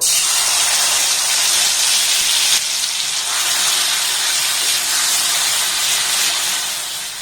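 Gravy poured into a hot pan of fried whole cumin and spices sizzles loudly in a continuous, close, bright hiss that holds steady throughout.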